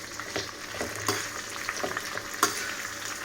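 Ivy gourd (dondakaya) frying on a stove: a steady sizzle with a few sharp stirring scrapes and taps, close and alone.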